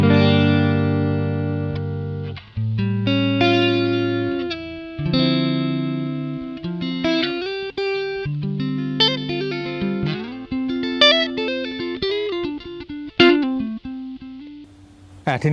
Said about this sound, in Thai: ปิดหมดเลยก่อน เบื้องต้นนะครับ เป็น เสียงคลีนปกติ